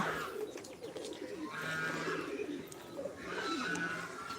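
King pigeons and fancy pigeons on a small farm with mixed birds give repeated low, droning coos in a few swelling phrases over a faint, busy outdoor background.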